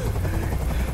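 A steady, loud video game helicopter drone in Detroit: Become Human, with a low rotor thrum, fills the whole moment, continuous and close.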